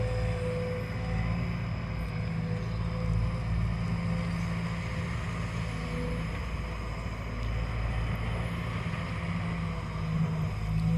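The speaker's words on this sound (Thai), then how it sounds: "ฟังเสียงไฮดรอลิกทำงาน" Hydraulic pump of a Sumitomo SH210F6 excavator running while it digs a farm pond, a steady, loud, unbroken mechanical drone with engine rumble throughout, no talking.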